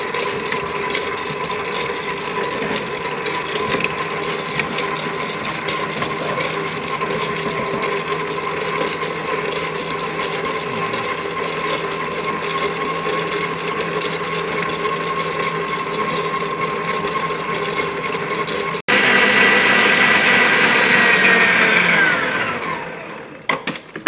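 Electric stand mixer whipping cream for chantilly, a steady loud whirring motor hum with whisk churning, rising to a higher, louder speed near the end before winding down.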